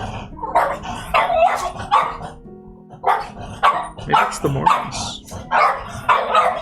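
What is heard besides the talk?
pet dog Coco barking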